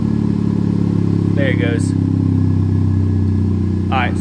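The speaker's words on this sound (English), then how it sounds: "As you can hear right now, the car just got a lot quieter" A Honda Civic FK8 Type-R fitted with an AWE Track exhaust idles with a steady, loud, low engine drone throughout, while someone speaks briefly over it twice.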